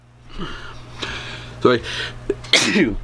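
A single sharp sneeze bursts out close to the mic, followed by a quick spoken apology amid some background noise.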